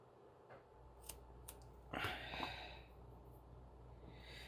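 Several sharp scissor snips cutting paper into tiny strips for a handmade card, a few quick crisp cuts followed by a longer rustling slice, close and fairly quiet over a low steady hum.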